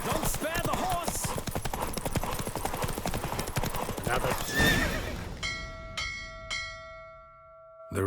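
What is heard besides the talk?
horse galloping in video game race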